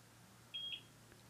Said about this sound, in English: until you hear a beep